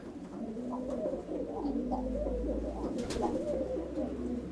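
Pigeons coo repeatedly in soft, throaty warbling calls, several birds close by over a low background rumble.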